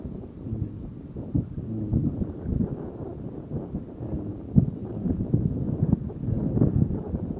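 Steady wind buffeting a microphone outdoors at a fishing spot, a low rumbling roar with gusty swells, no voices.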